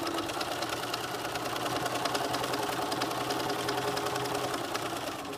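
Sewing machine running steadily while stitching a 5/8-inch seam for a flat felled seam, a continuous fast mechanical whir with no pauses, moderately loud and alone.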